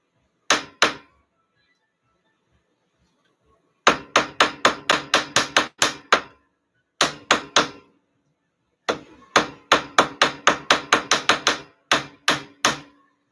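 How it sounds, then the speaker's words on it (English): Gold being hammered flat by hand for jewelry: bursts of sharp, evenly paced metallic blows, close and loud, in runs of several strikes separated by short pauses. "I want to hammer it back into a square."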